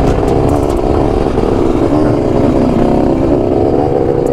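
A Yamaha XT250 motorcycle on an off-road trail roars close and loud, its engine revving steadily with rough clattering texture throughout, no talk over it.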